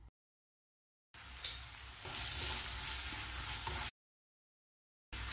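Potatoes sauté in a pan with salt and chili powder, sizzling loudly and steadily for about three seconds between silent gaps.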